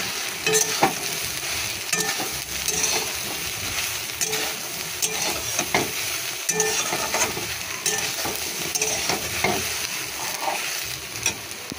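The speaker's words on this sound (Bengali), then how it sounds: "কি অল্প তেল দিয়ে এই সোয়াবিনটাকে নাড়াচাড়া করবো" Soya chunks fry in a little oil with bay leaf and whole cumin, giving a steady, close sizzle while a spoon scrapes and stirs the pan in repeated strokes throughout, with no talking.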